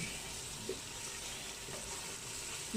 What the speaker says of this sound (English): now as you can see, it has been frying